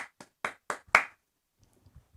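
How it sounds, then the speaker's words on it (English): Five sharp, separate hand claps in a slow, uneven rhythm, close and fairly quiet, followed by faint soft taps in an otherwise silent room. "And I commend you. Round of applause."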